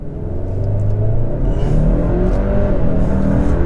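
A 2022 Hyundai Santa Cruz pickup accelerating hard in sport mode, its engine droning loud and steady with a low rumble and rising pitch, heard from inside the cabin.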